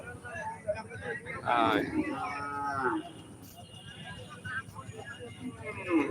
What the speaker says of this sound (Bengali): রতনপুর বাজারে এখানে সুন্দর সুন্দর গরু